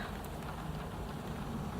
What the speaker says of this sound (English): it's not actually pouring. It's just raining